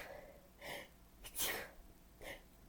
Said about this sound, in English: And of course I have a sneeze.